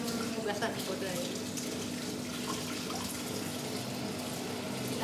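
Tap water runs steadily into a sink during washing up after a meal, a continuous close splashing hiss with faint clatter, under quiet talk.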